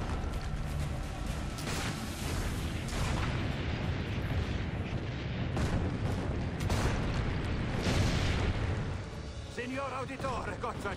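Loud, dense battle din in Assassin's Creed Brotherhood at Monteriggioni, with heavy cannon fire booming repeatedly amid continuous rumble, clashing and crowd noise, voices calling out over the chaos.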